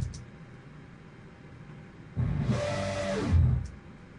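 A synthesized dragon roar with filter automation rises out of near silence, a broad noisy growl that lasts about a second and a half and sweeps in tone before cutting off.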